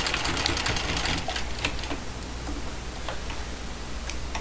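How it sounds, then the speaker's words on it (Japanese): Sewing machine double-stitching the bottom seam of a fabric pencil pouch made from scraps, a close, fast, continuous mechanical whir with a faint ticking rhythm throughout and no voices. "底の部分を二重に縫うんだと、そういうことですね。"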